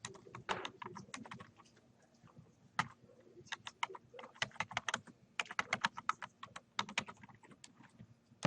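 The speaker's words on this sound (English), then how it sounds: "we can open up another tab, Google, type in Chevron and corporate" Bursts of quick keystrokes on a computer keyboard as a search is typed, irregular clusters of sharp clicks with short pauses between them, close and clear, with no voices.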